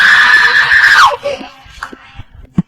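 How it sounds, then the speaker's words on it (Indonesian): A woman's high, sustained scream at night by a roadside near a car, loud and close, breaking off after about a second into scattered faint thumps and small noises. "tiba-tiba berhenti dan berteriak"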